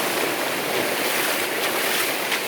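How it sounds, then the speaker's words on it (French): Ocean waves break on a white-sand tropical beach in India, a loud continuous roar of surf and spray with steady wash and no talk. "il y a des belles vagues là-bas"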